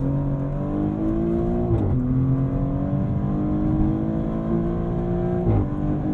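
Maserati GranTurismo Trofeo engine pulling hard under acceleration, loud and close, its rising pitch broken by two quick gear shifts, with no talking over it.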